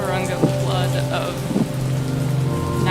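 Rain falling in the video game The Feels, a steady patter over a sustained low musical tone, with a couple of brief louder splashes; fairly loud and continuous, no speech.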